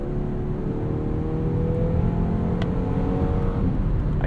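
A 2019 Volvo V60 T6 AWD Momentum with an 8-speed automatic accelerating in comfort mode, heard from inside as a steady low engine drone with rising tonal whine and road rumble, continuous and fairly loud.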